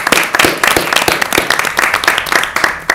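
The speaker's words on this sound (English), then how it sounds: "I think we should give a round of applause." A small group applauds at a city council meeting, with distinct, close, uneven hand claps that repeat quickly for about three seconds.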